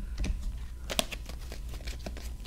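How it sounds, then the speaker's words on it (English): Tarot cards are shuffled by hand in a few soft, quick riffling and flicking bursts, close and fairly quiet with no talking. "I'm going to shuffle these cards."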